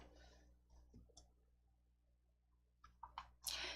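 Mouse clicks on a computer while a word processor's formatting toolbar is used, a faint lone click early and then a brisk cluster of sharper clicks near the end in a quiet room.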